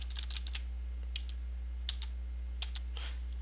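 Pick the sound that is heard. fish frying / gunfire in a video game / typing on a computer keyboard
typing on a computer keyboard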